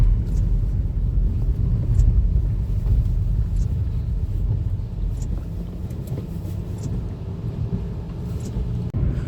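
A car drives a highway (NH48) at night in heavy rain, with a steady loud low rumble of engine and road noise throughout, and faint ticks of rain or passing traffic on top.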